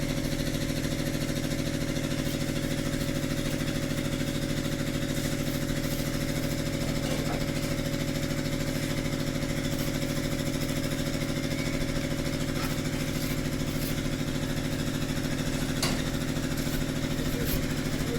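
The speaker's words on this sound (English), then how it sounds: "The noise you hear in the background is the block making machine" A concrete block making machine runs nonstop with a steady low mechanical hum and rattle, moderately loud and unchanging, with occasional faint knocks on top.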